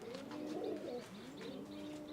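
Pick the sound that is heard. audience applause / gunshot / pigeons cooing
pigeons cooing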